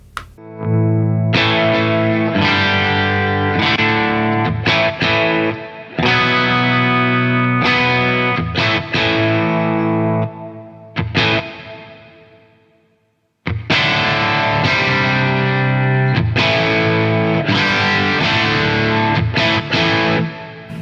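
Distorted electric guitar chords ring out with reverb through an M-Vave Tank-G effects unit, played in strummed bursts with a short pause near the middle before the playing resumes.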